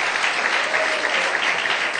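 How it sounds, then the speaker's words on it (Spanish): An audience at a talk claps for a doctor being introduced, a brief burst of dense, even applause with no voices over it. "Un aplauso"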